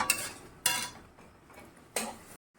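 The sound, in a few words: spice masala being stirred and fried in a pan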